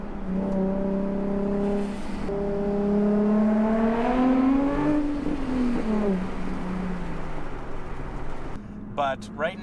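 A Nissan 350Z HR's engine rises in pitch as it revs while driving, building to a strong peak and then easing off, heard from inside the car with steady road noise underneath.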